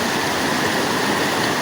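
Curug Leuwi Tonjong waterfall on the Cibentar river roars in a continuous, dense rush of falling water, loud and close with no other sounds.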